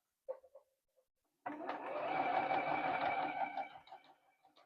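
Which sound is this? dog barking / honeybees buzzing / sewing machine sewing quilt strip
sewing machine sewing quilt strip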